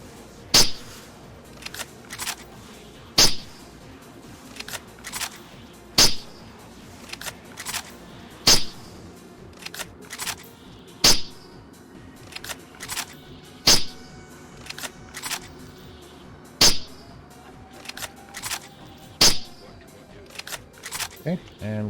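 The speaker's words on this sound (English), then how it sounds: "First set will be with suppressor." Suppressed CheyTac Intervention sniper rifle in DayZ firing a steady series of sharp, clipped shots, each followed by a bolt-cycling click, evenly spaced about a second apart, with roughly fifteen reports close and distinct.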